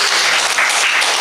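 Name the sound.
audience applause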